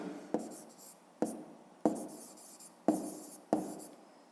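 Numbers are written by hand on paper, heard as five sharp pen or pencil strokes spaced about a second apart. Each stroke has a short scratchy tail, close and quiet, with no voices.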